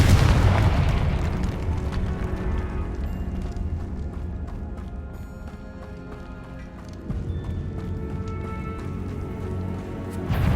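Confringo fire spell exploding in the Hogwarts Legacy video game, a loud booming blast at the start followed by a sustained rumbling roar and crackle that stays dense and heavy for about ten seconds, with no talk.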